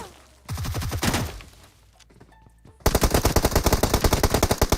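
Rapid automatic gunfire in the PUBG Mobile game, a short burst near the start, a lull with faint clicks, then a loud sustained string of evenly spaced shots to the end.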